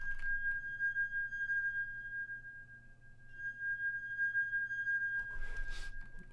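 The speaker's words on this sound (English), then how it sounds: "Then I have this pad from Purity." A synth pad from the Purity plugin, part of a dark plugg beat, holds a steady sustained tone with a brief dip midway, and a soft noisy swell rises near the end.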